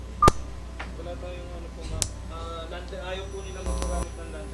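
Phone keypad tones sound as a cellphone number is dialed during a public service call, several short separate beeps spread over a few seconds with faint background voices.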